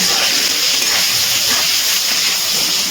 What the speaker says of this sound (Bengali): আমি এবার পটলগুলো খুব ভালো করে ভেজে নিচ্ছি।